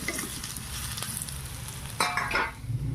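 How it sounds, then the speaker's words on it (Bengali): Potato pieces fry in oil for a fish curry. The sizzle runs steady throughout, with a brief clatter of stirring near the end and no voices. "তো গাইস প্রথমে আমি আলুগুলি লাল লাল করে ভেজে নিচ্ছি"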